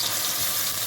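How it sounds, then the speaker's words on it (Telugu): Onion and spice paste with green chilli, cinnamon and cloves fries in hot oil, a dense steady sizzle heard close up and alone. "ఆనియన్ పేస్ట్ వేగుతుండగానే అల్లం వెల్లుల్లి పేస్ట్ కూడా వేసుకుంటాం."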